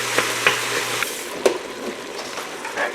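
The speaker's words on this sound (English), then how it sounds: "next I add the ground beef, and I'm just going to break it up and fry them together" Ground beef and onions frying in fat, broken up with a utensil, give a steady close sizzle with a few sharp scraping knocks against the pan and no talking.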